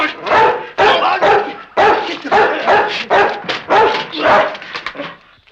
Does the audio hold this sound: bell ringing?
no